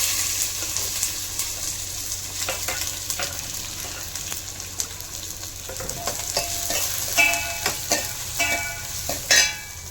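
Fennel seeds and onion fry in hot oil with a continuous crackling sizzle, joined by occasional sharper pops and stirring scrapes toward the end.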